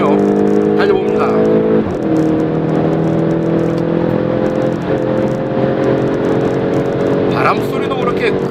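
A Volkswagen Golf GTI accelerates in sport mode, its engine note a steady, loud drone that holds continuously from start to finish, with a brief dip just before the two-second mark.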